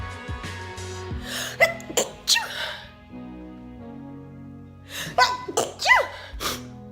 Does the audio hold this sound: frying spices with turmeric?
no